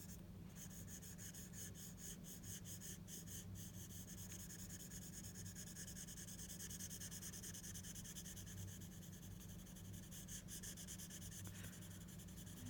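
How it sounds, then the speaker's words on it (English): A paper blending stump smooths graphite shading on paper in a quiet, continuous soft rubbing, with faint strokes repeating up close and no voices. "I'm going to take my blending stump and I'm going to smooth this over with my blending stump."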